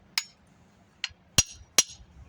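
A hammer taps a handmade wooden garden tool handle five times in an uneven rhythm, each tap a sharp, close, ringing knock with a quick decay and quiet gaps between.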